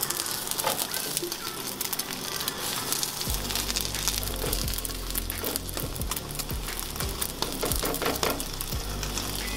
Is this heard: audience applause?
no